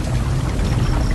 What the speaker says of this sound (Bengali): লোকটা বলার সাথে সাথেই বৃষ্টি শুরু হলো